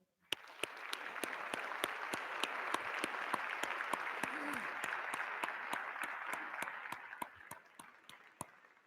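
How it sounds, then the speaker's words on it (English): Applause for graduates at a 2019 WITCC fall graduation ceremony, a broad wash of clapping from a large audience heard fairly faint, punctuated by regular sharp ticks and fading toward the end. "Can we have an applause?"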